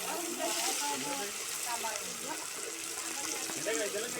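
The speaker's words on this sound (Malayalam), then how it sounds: "മസാല ആക്കാൻ വേണ്ടി നമ്മൾ സവാള വീണ്ടും എണ്ണയിലേക്ക് ഇട്ടിട്ടുണ്ട്" Sliced onions frying in coconut oil for a beef biryani masala, a steady close sizzle with bubbling and crackle throughout, with a voice talking over it.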